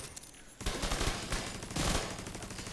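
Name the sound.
pistol gunfire in video game The Division 2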